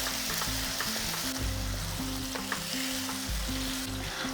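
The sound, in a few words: sautéing potol with yogurt mixture on low flame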